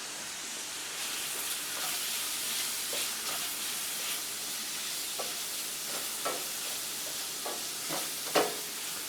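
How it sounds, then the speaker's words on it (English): Garlic and mushrooms sautéing in a pan, a steady close sizzle and hiss throughout with occasional stirring scrapes and small pops, no talking. "now that the garlic's had a chance to start to simmer in there, I'll go ahead and put in my mushrooms"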